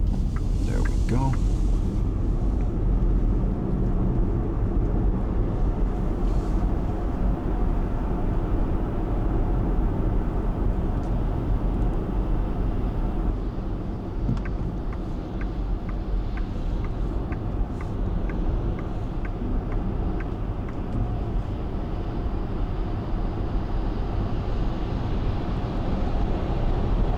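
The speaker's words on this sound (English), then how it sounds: "we will do a little bit of highway driving, so you can hear how the car sounds when driving at higher speeds" An Xpeng G9 electric SUV cruises at highway speed around 130, giving a steady, loud broadband road and wind roar with faint ticking, and a voice speaks briefly over it.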